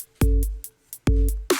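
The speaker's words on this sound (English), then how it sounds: "Here's what our loop sounds like." A simple electronic music loop with punchy drum hits and sustained chords in a short repeating pattern, loud and close with gaps between the beats.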